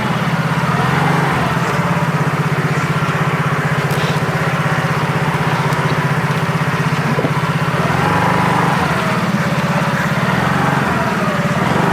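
Small scooter engine idling and revving steadily while a beginner learns to ride, a constant loud buzzing drone close by throughout.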